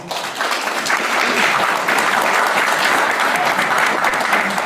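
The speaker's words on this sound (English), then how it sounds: "A round of applause for Cynthia Hughes, everybody." A panel discussion audience applauds Cynthia Hughes as she is introduced; dense, sustained clapping that swells quickly and stays full and even.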